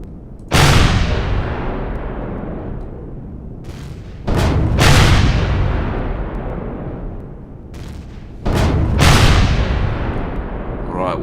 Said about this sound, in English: Well, they're still shooting.